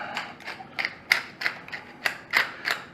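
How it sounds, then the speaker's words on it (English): A pepper grinder cranked over a leg of lamb gives a rapid series of close, dry ratcheting clicks, roughly nine crunchy grinds in a steady rhythm with nothing else heard. "We're going to give it a good crank of pepper all around."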